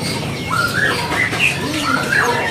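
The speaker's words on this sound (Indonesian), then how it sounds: "Ini ada stoknya dari burung Mozambik." Yellow-fronted canary (Mozambique bird) in a bird shop, giving short bright chirps and warbling phrases in quick bursts against a busy, noisy indoor background.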